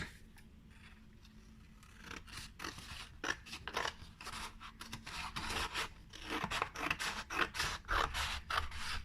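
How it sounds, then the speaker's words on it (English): Scissors snip and scrape through card in a run of short crisp cuts, building to faster, louder snips toward the end; nobody speaks. "using your scissors,"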